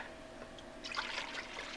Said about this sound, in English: We're going to pour this into our pot on top of the stove.